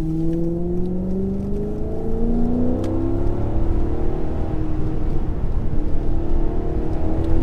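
A Maserati GranTurismo Sport engine accelerates hard, its rising engine note climbing steadily through the gears, loud and close with no talking.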